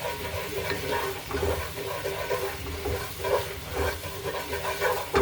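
A Japanese-style sauce for seared aku (skipjack tuna) reducing in a pan, with a continuous close sizzle and bubbling hiss alongside rhythmic stirring scrapes, steady throughout with no talk.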